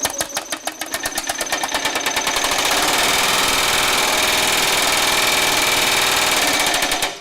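A Baileigh MH-19 power hammer pounds sheet metal being shaped, starting with distinct spaced blows that quickly speed up into a rapid, continuous loud hammering before slowing and stopping.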